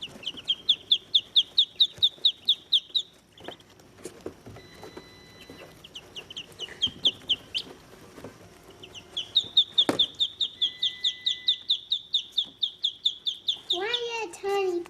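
One-day-old Muscovy ducklings peep in fast, regular runs of shrill chirps close by, pausing briefly in the middle before a long steady series resumes, with faint background handling noises and a short squeal near the end.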